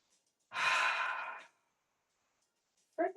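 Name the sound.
deep breathing during a pilates stretch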